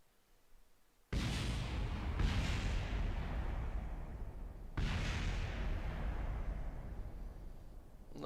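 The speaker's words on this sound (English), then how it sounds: "Those are just the tail fins exploding, which is okay." Rocket tail fins explode in Kerbal Space Program: after a quiet start, a sudden loud, sustained roaring blast rumbles on, with two further sharp bursts layered over the continuous thundering noise and no talk.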